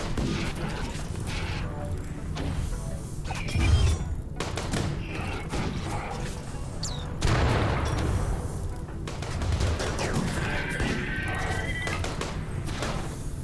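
Gunfire from a centipede mech in the video game RimWorld, bursts of layered shots and clattering impacts mixed with other busy game effects, fairly loud and continuous.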